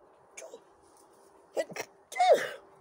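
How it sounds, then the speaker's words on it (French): A person sneezes during a French-language relationship tarot reading, with a small intake sound and then a louder burst near the end, close and clear in a quiet room. "Un moment que j'avais pas éternué"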